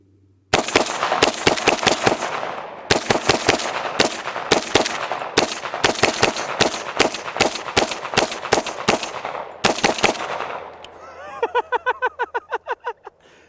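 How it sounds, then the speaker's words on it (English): A gun fires a rapid magazine dump at targets: loud, close volleys of shots in quick bursts for about ten seconds, followed by a few fainter ringing pops as the firing ends. "Time for a mag dump."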